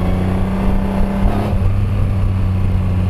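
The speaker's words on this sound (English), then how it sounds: "I love those backfires that are happening, the little crackle that's in the exhaust" A Triumph Rocket 3 motorcycle engine runs with a steady, loud, rumbling drone and a slight lift in revs midway, heard up close with no one talking.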